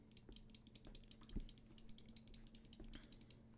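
Rapid mouse-button clicks repeat in quick bursts across a trading platform session, with light, sharp ticks close to the mic over a steady electrical hum and no voices.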